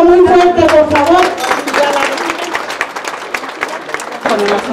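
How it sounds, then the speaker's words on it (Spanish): Audience applause at a ceremony presenting a new mayordomal cross for San Nicolás in Mixquiahuala, loud dense clapping that starts strong then thins and tapers, with voices speaking over it. "Un aplauso muy fuerte, por favor"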